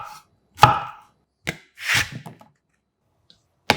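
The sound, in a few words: chopping zucchini into 1 cm slices with a knife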